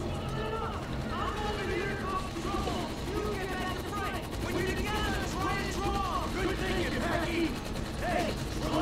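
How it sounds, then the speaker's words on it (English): Machine gun fire from the video game GTA 5 rattles on in rapid, dense bursts throughout, mixed with mechanical clanking and distant blasts, with a voice talking over the shooting. "Oh, whoa, the machine gun!"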